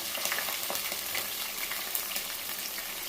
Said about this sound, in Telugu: అవి ఫ్రై అవుతున్నాయి కదా ఇవ్వండి పచ్చిమిర్చి అలానే ఆనియన్